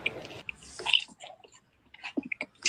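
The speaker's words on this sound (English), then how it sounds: "people in chatters are starting to tell her, please stop chewing so loudly" Loud, close chewing right into a microphone, with wet smacking and crunchy bites coming in irregular bursts and short pauses between mouthfuls.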